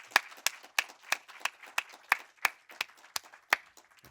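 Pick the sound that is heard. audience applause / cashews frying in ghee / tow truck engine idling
audience applause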